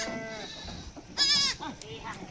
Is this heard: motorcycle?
no